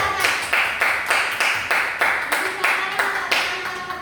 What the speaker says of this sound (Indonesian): Bagus, tepuk tangan buat